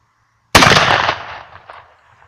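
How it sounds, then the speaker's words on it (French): A single loud 12-gauge Ildiz over-and-under shotgun blast from the lower barrel at a paper target, a sharp close report with a long fading outdoor decay after near silence. "On va tirer dans le papier pour voir un petit peu qu'est-ce que ça groupe là-bas."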